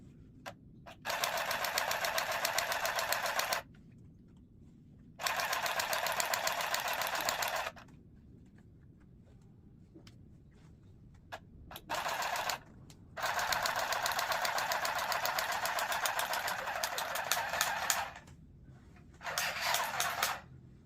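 A handheld sewing machine stitches a shirt in loud, rapid mechanical bursts, five runs of a few seconds each separated by quiet pauses, the chattering rhythm close and even.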